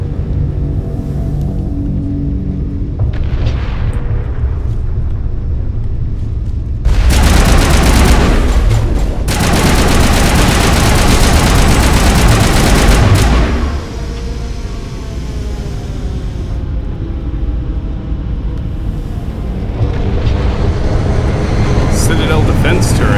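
Heavy gunfire and booming blasts from Citadel defense turrets in Mass Effect, a loud sustained barrage in the middle of the clip with quieter rumbling before and after, under steady speech.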